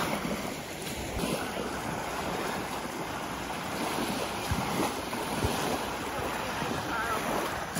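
Waves wash onto a Lake Michigan beach near a park, a steady surf hiss mixed with heavy wind buffeting the microphone and a few faint voices.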